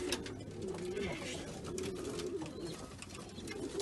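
Soft, repeated cooing from white breeding pigeons kept on a balcony, low murmuring calls at a gentle rhythm, faint and close against a quiet background.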